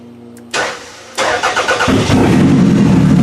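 A Toyota Camry demolition derby car cranks over and fires up: a brief click, then a short burst of starter whirring and a second stuttering crank before the engine catches into a loud, rough idle close by.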